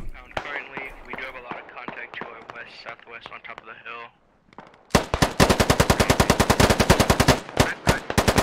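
Gunfire in the military video game SquadOps. A soft patter of distant shots plays under a voice, then a sudden long burst of rapid, loud, close automatic fire rattles on steadily.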